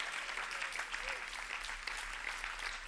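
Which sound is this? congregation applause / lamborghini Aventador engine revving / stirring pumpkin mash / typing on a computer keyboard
congregation applause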